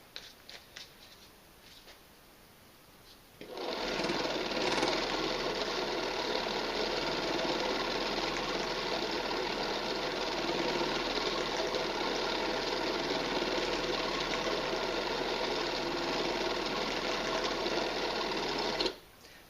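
A KVM mini vortex mixer shakes and spins a bottle of acrylic pigment or tattoo ink, starting abruptly after a quiet moment and running as a loud, steady mechanical buzz for about fifteen seconds before cutting off.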